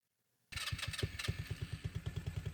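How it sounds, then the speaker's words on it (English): A Venom 200cc mini jeep engine starts after a moment of silence and settles into a steady, rapid thumping idle with clattery mechanical texture, loud and close. "I'm gonna turn on the engine."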